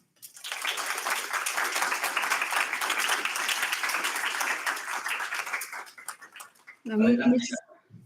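An audience at a university conference lecture on human-centered design for independent housing claps in a dense, even burst that fades out after about six seconds, followed by a brief spoken voice.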